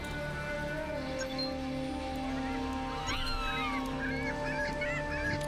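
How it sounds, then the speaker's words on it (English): A summoned bird in a video game calls with a few short, rising honks and squawks over a steady hum of background game sound, fairly faint and without talk. "let's summon the bird"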